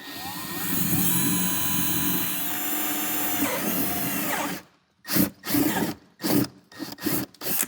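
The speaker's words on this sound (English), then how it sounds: "we're gonna drill from the inside" A power drill whirs steadily for several seconds, drilling from inside a Dodge Hellcat car, then stops and fires in short repeated bursts with brief pauses between them, close and loud.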